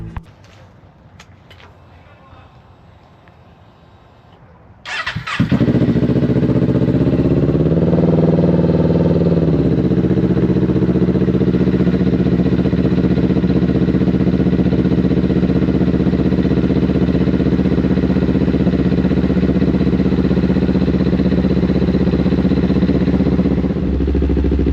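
A Kawasaki Ninja 400 fitted with a Hindle exhaust fires up after a few seconds of quiet, then settles into a loud, steady idle with a brief blip early on, close to the microphone.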